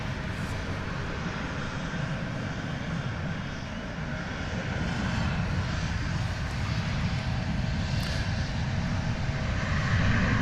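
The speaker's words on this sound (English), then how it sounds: "Here's that Aero Mexico Connect Embraer 190. It's going back to Mexico City." Aeromexico Connect Embraer 190 jet at DFW Airport, its engines giving a steady broad roar that builds slightly as it passes, continuous throughout with no talk.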